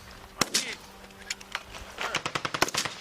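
Gunfire rings out at a military firing exercise at Schofield Barracks, Hawaii, with a few isolated sharp shots early on and then a rapid, close burst of cracks near the end, with shouting voices mixed in.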